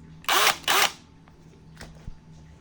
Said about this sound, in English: a drill, duh.